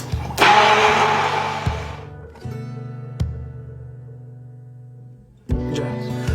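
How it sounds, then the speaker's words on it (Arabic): A blender mixing a yogurt and mint drink whirs loudly in pulses, motor pitch rising and dropping between bursts, close up with no talking. "وبعديها على الخلاط مباشرة وبنخلط"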